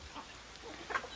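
Chickens cluck faintly while being fed rice, with a short, slightly louder cluck near the end over a quiet outdoor background.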